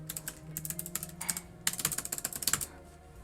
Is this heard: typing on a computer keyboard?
yes